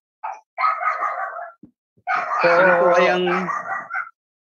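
Dogs bark and howl nearby in loud, drawn-out bursts, the second one long and tonal, while a person speaks during the sound.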